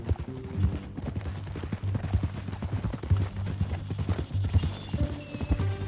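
Horse hooves clip-clopping at a steady walking rhythm in the Western video game Red Dead Redemption 2, close and continuous, with a low ambient hum beneath.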